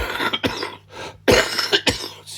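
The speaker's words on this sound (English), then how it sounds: "Excuse the cough." A person with a chest infection coughs several times in a row, close and loud, harsh chesty bursts with short pauses between them.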